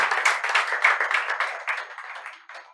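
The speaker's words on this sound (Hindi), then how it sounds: "चलो एक बार जोरदार ताली" An audience at a talk or session gives a burst of hand clapping, a mid-sized crowd clapping steadily and nearby before it tapers off toward the end.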